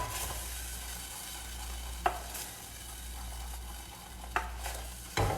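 A wooden spoon stirs thickening cheese sauce in a pan for mac and cheese cups over a steady low sizzle, with a few sharp scrapes and taps of the spoon against the pan.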